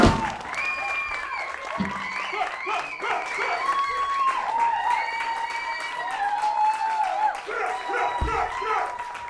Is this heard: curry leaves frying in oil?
no